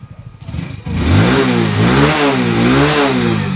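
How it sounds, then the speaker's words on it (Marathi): A motorcycle fitted with a mobile-phone remote start kit catches after a few quiet clicks, then revs up and down in several close, loud swells before settling into a rough idle. "गाडी आपली मोबाईलवरती स्टार्ट झालेली आहे"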